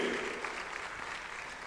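Audience at an awards ceremony applauding steadily, a dense continuous wash of clapping from many hands throughout, moderately loud with no talk over it.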